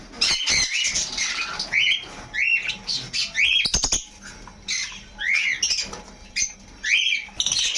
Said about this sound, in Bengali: দেখুন এখানে যেটি বদ্রিগুলো আছে, উপরেও আছে, সাইডে উপরে একটা ভাজে পুরো আছে।